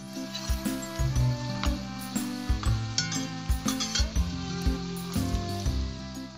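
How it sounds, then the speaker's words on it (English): Korean hotteok made with dumpling wrappers fry in a generously oiled, heated pan, a close, steady sizzle under background music with faint clinks of utensils. "Place the hottek in a generously oiled and heated pan."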